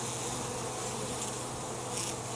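Honey bees buzz densely and close around an open hive during an inspection, a constant loud swarm hum with no pause.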